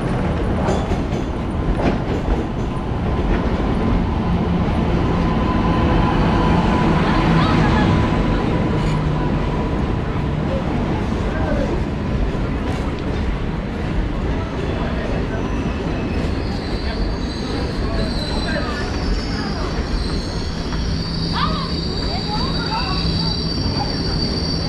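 A train stands at Gudur Junction railway station while wheels squeal and cars rumble, giving a steady, loud mechanical roar with metallic screeching through the whole stretch and faint voices in the background.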